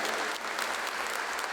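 A congregation claps loudly in a church sanctuary, a dense, sustained burst of applause from many hands with no voices over it.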